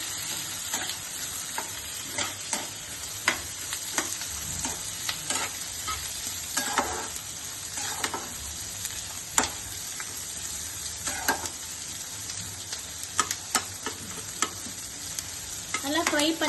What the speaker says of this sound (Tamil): நல்லா ஃப்ரை பண்ணிக்கணுங்க.